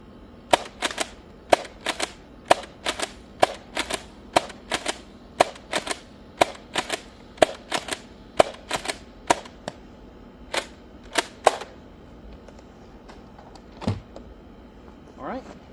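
A Nerf Rival Saturn pump-action blaster with a 10-round internal magazine fires repeatedly, a rhythmic series of sharp close clacks and pumps about every half second, then slowing to a few final shots and rattles.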